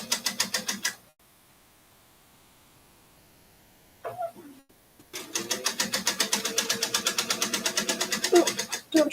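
Sewing machine stitching lace down onto fabric, a rapid regular needle chatter that runs briefly, pauses for several seconds of near silence with a short rustle, then resumes in a steady close burst.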